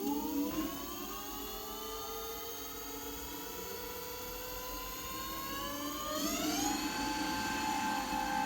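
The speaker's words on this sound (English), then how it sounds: "We press the button for dual, you'll see that the power increases and both motors are accelerating." Dual motors of a Dualtron Ultra V2 electric scooter whine as it accelerates, a loud rising harmonic electric whine that climbs steadily in pitch with a further surge near the end, no talking.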